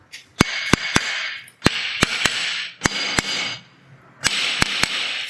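Sharp, hard taps strike loose kitchen wall tiles in clusters of two or three, each crack ringing briefly over a hollow hiss, close and loud.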